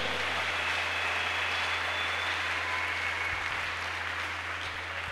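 A church congregation applauding the Lord, sustained clapping that forms a steady, even roar filling the whole moment.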